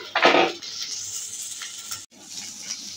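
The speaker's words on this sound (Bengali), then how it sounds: "ঢাকনাটা খুলে দেখে নিচ্ছি।" A metal pot lid clatters off a pot of fish curry cooking with pumpkin leaves, a sharp close clank followed by the soft sizzle and bubbling of the curry underneath.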